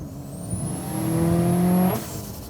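A tuned car revs to 3,000 RPM, either a big-turbo 400 hp Subaru STI or an E85-tuned Ford Focus RS, its engine tone climbing loud and close before cutting off sharply near the end.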